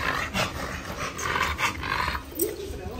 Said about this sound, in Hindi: भैया के घर कुत्ता आ ही गया है फाइनली।